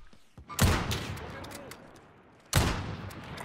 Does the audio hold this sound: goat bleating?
no